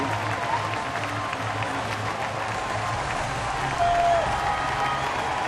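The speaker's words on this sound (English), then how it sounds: "Listen to that crowd." A baseball stadium crowd in Pittsburgh roars and applauds after a base hit, a loud, steady wash of cheering and clapping that holds for several seconds and swells slightly near the end.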